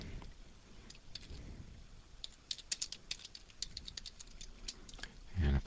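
Computer keyboard being typed on, a run of quiet, irregular key clicks close by against low room noise, ending in a soft thump.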